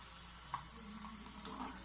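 Ivy gourd (kovakka) frying in coconut oil in a pan, a faint, steady sizzle with a few soft clicks and taps, quiet and close with no voices.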